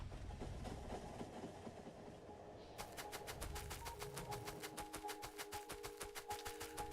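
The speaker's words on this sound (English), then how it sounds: "That is a lot of trains." Trains running on rails in the video game Factorio, a rolling clickety-clack that turns into a rapid, even run of sharp clicks over a low hum, steady and fairly quiet with no talking.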